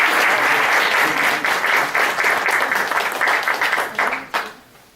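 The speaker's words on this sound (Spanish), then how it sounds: "Un aplauso para todos ustedes antes de comenzar." Loud, dense applause from an audience at an interschool debate tournament, a sustained wash of clapping that thins out and fades away near the end.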